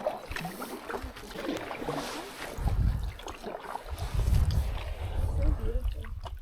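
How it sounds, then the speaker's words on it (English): Canoe paddling across a lake in Algonquin, paddle strokes swishing and splashing through the water in slow pulses, close by, amid light wind noise and some talk. "now we're just paddling over to hopefully an island site"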